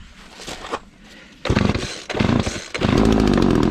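A McCulloch Mac 3818 chainsaw engine catches after a few sputtering pulls, then settles into a loud, steady, close-up buzzing run.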